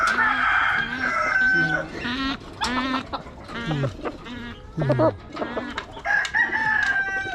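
Chickens on a rural farm in Bataan, with a rooster crowing and hens clucking nearby in repeated loud calls. A person murmurs briefly between them.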